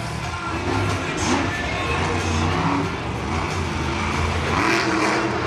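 Monster truck at Monster Jam in MetLife Stadium, 2013, driving over red crushed cars, its engine roaring in a loud, continuous drone with shifting revs and a few surges.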